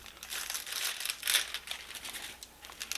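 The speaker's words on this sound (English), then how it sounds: "And let's peel back this plastic here." Plastic sheet peeled back from a veneer mold during clock case repair, a close crinkling, crackling rustle with uneven bursts and one sharper crackle midway, with no voices.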